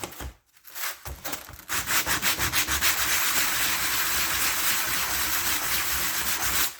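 Old gasket material is sanded off a 1968 Pontiac GTO 400 intake water neck, a brief scrape leading into steady, rapid rhythmic rubbing strokes that blur into continuous close abrasive noise.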